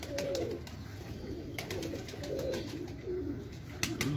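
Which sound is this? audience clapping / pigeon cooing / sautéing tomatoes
pigeon cooing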